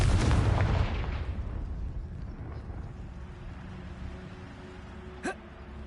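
A booming blast from the Confringo curse in Hogwarts Legacy opens loud and broad, then rumbles and decays over several seconds into a low hum, with a brief sharp pop near the end.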